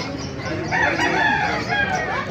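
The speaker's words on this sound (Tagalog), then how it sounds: "Papakita ko sa inyo mga manok dito sa Bukawi" A rooster crows loudly and close by at a market in Bocaue, one long drawn-out call rising and falling over a steady background of farmyard noise.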